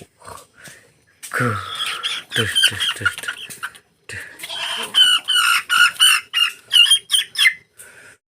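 Chickens cluck and squawk in short repeated bursts, fairly close and loud, with brief pauses between flurries of calls.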